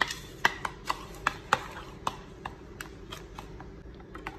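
Fruit chaat being stirred with chaat masala, black pepper and sugar: irregular light clicks and taps of a spoon against a bowl, close and fairly quiet, with no talking.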